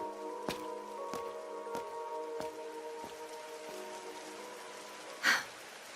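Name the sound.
rain falling, from a video game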